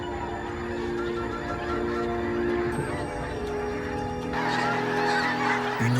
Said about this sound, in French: Une oie donne l'alerte.